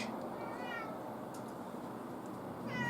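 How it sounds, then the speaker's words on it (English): A domestic cat meows twice, one call at the start and another at the end, each clear and fairly close over a steady background hiss. "Oh, you naughty, naughty, naughty cat."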